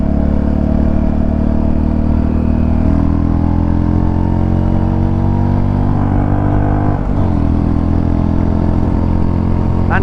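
A 2026 Royal Enfield Bullet 350 thumps steadily along the road, its single-cylinder engine a loud, continuous low rumble with a slight shift in pitch partway through, no voices over it.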